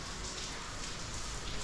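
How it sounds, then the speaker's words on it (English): Steady rain falls outdoors on a rainy day in the Philippines, a continuous soft hiss of drops on surfaces with no other sound standing out. "It's raining."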